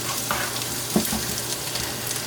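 Onions and peppers frying in a pan, a steady close sizzle with a few stirring scrapes and clinks and no talking.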